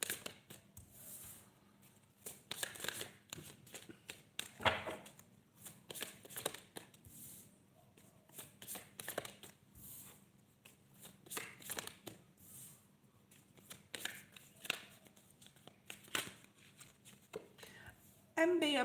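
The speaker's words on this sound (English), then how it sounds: "I'm going to start pulling some cards for you" Tarot cards shuffled and pulled during a live reading, bursts of riffling and flicking card noise repeating irregularly under occasional talk.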